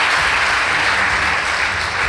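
An audience at a girls' school debate claps loudly and steadily, a dense close burst of applause without any talk.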